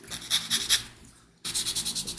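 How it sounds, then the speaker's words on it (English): Fine sanding on the small cut connection point of a plastic part from a 1:76 Agora USS Constitution model ship makes quick, soft rhythmic rasping strokes. A short pause falls between two bursts of close, faint scraping. "sand any remnant of the connection point"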